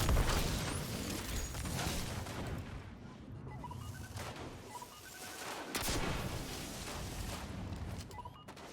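Gunfire from the Tikus weapon in Destiny 2 during a Lost Sector fight: dense, loud bursts of shots and impacts run nearly continuously, with brief lulls and swells, and no talking.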